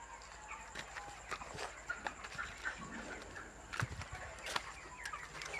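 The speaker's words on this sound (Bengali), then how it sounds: "দেখেন, আমরা মুরগি পালন করতেছি" Chickens being raised on a small poultry farm, birds about 25 days old, give scattered clucks and rustling against steady farmyard background noise, with a few sharper calls standing out.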